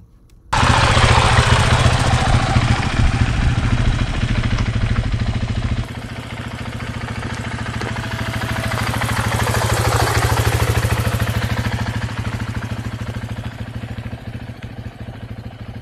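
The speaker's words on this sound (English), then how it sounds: "the motorcycle, please listen to the engine. It is running phenomenally." A 2024 KTM EXC F 500 dual sport motorcycle runs on a gravel hill, its single-cylinder engine droning loud and close, dropping in level partway through and then swelling again.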